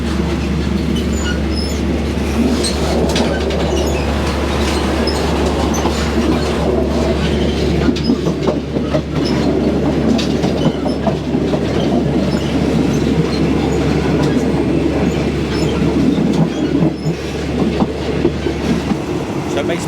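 A first class sleeper train rolls from Hat Yai toward Bangkok, a steady low rumble with rhythmic clickety-clack and faint wheel squeal heard from inside the carriage.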